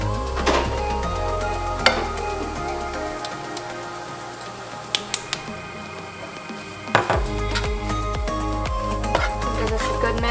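Spoon scraping and stirring seasoned taco meat in a pan, with soft sizzling and a few clinks of utensil against metal, close and steady throughout.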